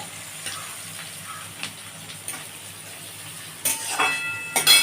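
Chopped onion going into a pan after cumin tempering, giving a low, soft sizzle with occasional stirring taps, then a few sharper, louder bursts of crackle and metallic clatter near the end.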